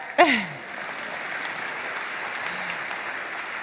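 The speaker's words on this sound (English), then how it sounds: "you can clap for that." Steady audience applause fills a political gathering, following a brief voice at the very start and holding evenly to the end.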